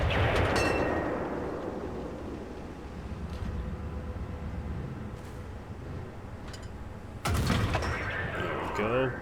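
Heavy cannon fire and explosions from an American M6 heavy tank in a tank battle video game boom out in a few loud bursts over a rumbling battlefield background. A player talks intermittently over the action.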